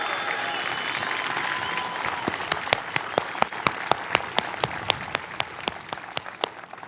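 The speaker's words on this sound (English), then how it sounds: "big round of applause" Audience applause at a SpaceX company update, a mix of general crowd noise and distinct rhythmic handclaps picking up and then fading, moderately distant.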